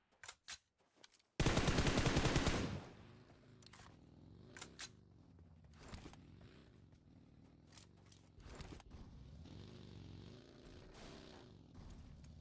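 Gunfire in PUBG Mobile during a competitive scrimmage: a few sharp single shots, then a loud sustained automatic burst lasting about a second, followed by scattered distant shots over a low droning background.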